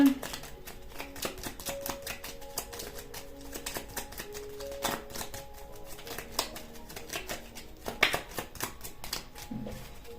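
Tarot cards being shuffled and drawn, a steady run of crisp flicks and slaps close by, with a few sharper snaps and soft rustling between them, no talking.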